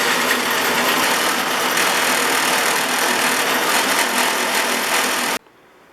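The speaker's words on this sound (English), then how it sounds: "once that's done I'm going to go over to my buffing wheel and finish it up" A buffing wheel polishing the cap of a Stanley No. 60 low angle block plane, giving a steady, loud motorized whir with grinding friction that runs unbroken for over five seconds, then stops abruptly.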